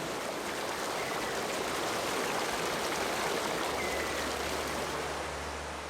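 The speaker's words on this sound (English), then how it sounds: "the bamboo swamp that feeds the Sipu River receives water from 3 almost identical streams" A stream flows through a bamboo swamp in the Amazon with a steady, dense rushing wash that holds even throughout, with no voices.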